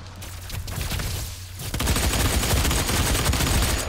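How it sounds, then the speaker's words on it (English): Assault rifle fire in a DOOM multiplayer beta match: dense, loud, continuous bursts of rapid shots that grow heavier partway through, with no talking. "Quite a nice assault rifle."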